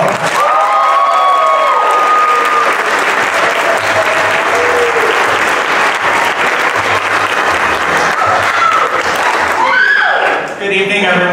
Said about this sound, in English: please give a raucous round of applause to J.R. Shaw.